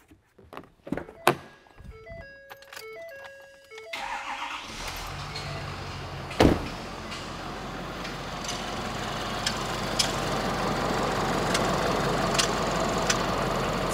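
A Ford truck engine with a failed high-pressure pump starts after a few chimes and door thunks, then runs with a rough, loud, steady idle marked by occasional knocks.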